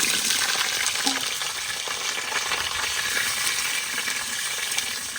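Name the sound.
potatoes frying in hot mustard oil in a wok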